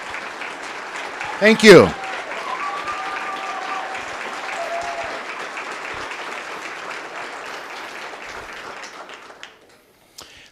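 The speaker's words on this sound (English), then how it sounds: "Let's give them a round of applause, if able." A banquet audience at a university humanities award ceremony applauds the scholarship donors. Broad, steady clapping fills most of the ten seconds, with a brief spoken thanks over it, then tapers off to near silence at the end.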